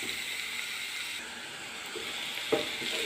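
Papaya pieces frying in hot oil for a pickle give off a steady, close hiss and sizzle that runs throughout, with one brief clink partway through and no voices.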